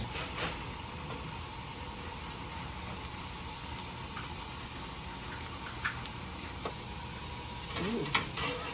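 Potato pancakes fry on a grill with a soft, steady sizzle and hiss throughout, a few faint clinks and stirring noises near the end.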